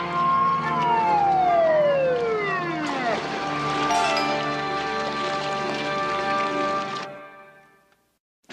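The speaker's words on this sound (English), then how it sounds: "Why is it I can always tell the sound of Terwilliger's siren?" Police car siren wailing loudly and close, its pitch sweeping down and then holding a steady warbling tone for several seconds before cutting off abruptly.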